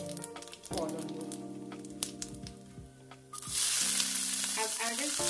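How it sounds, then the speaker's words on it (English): Cumin seeds (jeera) spluttering in hot oil for shahi aloo: sharp crackles and pops over a tonal hum, then a loud, dense sizzle that swells and holds steady near the end. "add our jeera. Make sure you stand in good distance so that the oil, fluttering oil, doesn't fall on you."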